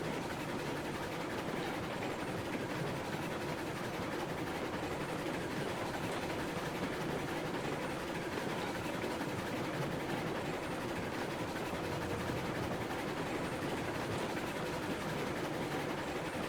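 Steady rumble of a train rolling along rails in a train-simulation game, a continuous broadband drone with faint rhythmic clatter running evenly throughout, no voices.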